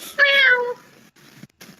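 A person's voice imitates a cat with one drawn-out, fairly loud meow, followed by a quiet stretch of faint, low room noise.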